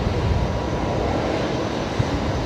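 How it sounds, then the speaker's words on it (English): An Airbus A350-900 airliner arriving at Brisbane Airport produces a steady, broad jet roar that holds at an even level throughout. "A350-900 arriving for the first time here in Brizzy today"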